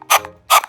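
Two quick bursts from a Sun Bum sunscreen spray bottle with a wooden shell, each a short loud hiss ending in a slight click, close up and roughly half a second apart.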